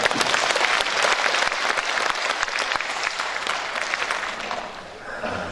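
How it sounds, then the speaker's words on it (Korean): Loud, dense audience applause at a politician's constituency report meeting in Jeonju, steady and full before tapering slightly near the end. "여러분 힘찬 박수 한번 부탁드립니다."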